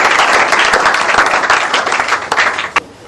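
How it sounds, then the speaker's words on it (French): Applause from a theatre audience at an anniversary celebration for a theatre company, a dense steady clapping that fades toward the end with one sharp clap near the close. "Est-ce qu'on peut encore les applaudir?"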